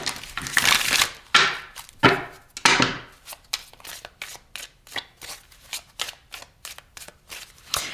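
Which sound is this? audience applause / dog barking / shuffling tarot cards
shuffling tarot cards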